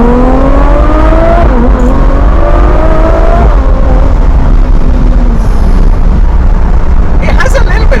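A Ferrari F12 TDF's engine revs hard while driving on cold tyres, rising in a series of climbing, shifting engine tones that fade to a lower drone, loud and close, with a brief sharp burst near the end.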